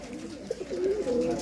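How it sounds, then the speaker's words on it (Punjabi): Female pigeons coo softly, a low wavering call rising and stretching toward the end, close by and alone without voices. "ਕਬੂਤਰੀਆਂ"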